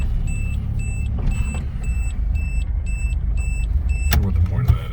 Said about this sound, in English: Is that backup alarm?